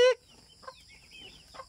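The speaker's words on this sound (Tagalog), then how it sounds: "Ay, ang dami na yung manok, oh." Chickens on a Philippine province farm giving a few soft, short clucks, faint and spaced out, after a brief tone at the start.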